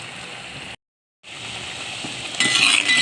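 Meal maker masala curry is stirred in a cast iron pan, with a steady close sizzle and scraping, a brief gap of silence, then livelier stirring and a brighter hiss near the end.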